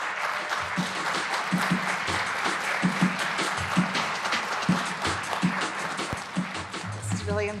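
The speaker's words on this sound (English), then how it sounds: "Let's welcome and applaud her." Audience applause at a community media awards ceremony, steady clapping throughout with voices and shouts breaking through at intervals and a tonal sound near the end.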